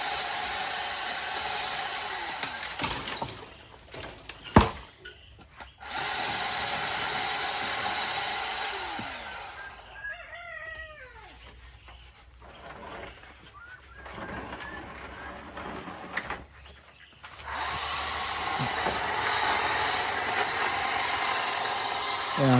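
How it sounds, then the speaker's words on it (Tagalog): A battery chainsaw trims mango tree branches on a farm, cutting in loud whining bursts separated by quieter gaps, with pigeons cooing in the background and a voice speaking briefly. "Gamit namin yung the battery na chainsaw."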